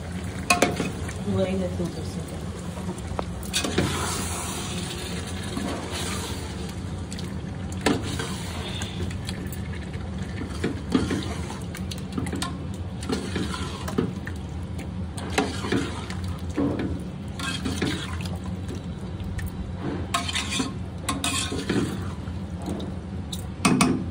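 Chicken for Hyderabadi dum biryani cooks in a pot with a soft, steady sizzle, broken by frequent scrapes and clinks of stirring and the odd faint voice.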